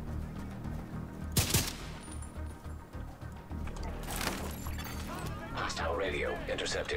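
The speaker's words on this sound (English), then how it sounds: "I hear gunfire." Bursts of gunfire from The Division 2 video game, a sharp volley near the start and a second cluster around the middle, over steady game ambience with a voice speaking later.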